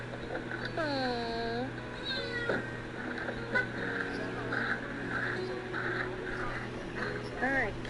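A cat meows several times in rising and falling wails, close and fairly clear, over a steady low hum in a wrestling video game's background, with a person talking briefly.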